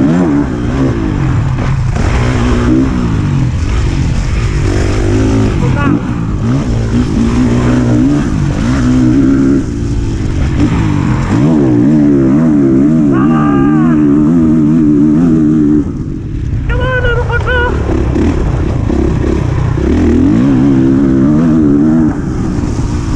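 A Honda CRF 450R dirt bike engine revs hard and close, its pitch climbing and dropping in repeated surges over the whole stretch, loud and raw with no voices.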